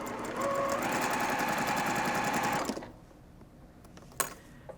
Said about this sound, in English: But I'm going to sew the next one first so I don't waste